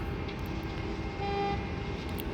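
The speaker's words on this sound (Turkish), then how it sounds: "bu korna beni dağıttı" A brief car horn toots once at moderate distance over constant traffic rumble, lasting about a third of a second.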